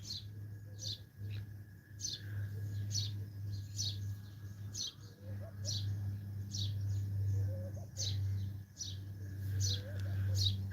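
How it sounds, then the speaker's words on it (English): Several birds sing and chirp in a garden during drought, with repeated bright high calls recurring through the clip over a steady low hum in the background. "So many birds in my garden."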